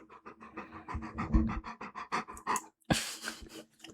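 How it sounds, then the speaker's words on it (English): A dog named Milo pants close by in a quick, steady rhythm of short breaths, briefly interrupted by a rustle before the panting resumes. "I don't know if his panting is audible"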